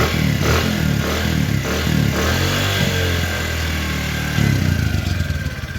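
A Kawasaki CT100A motorcycle engine runs steadily up close, a loud continuous mechanical clatter with a slight surge near the end.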